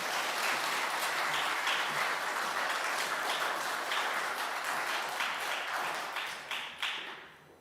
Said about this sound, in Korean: 우리 목사님 환영의 박수 함께 하겠습니다